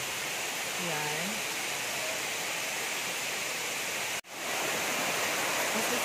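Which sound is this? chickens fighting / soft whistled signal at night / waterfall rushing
waterfall rushing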